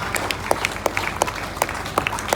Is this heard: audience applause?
yes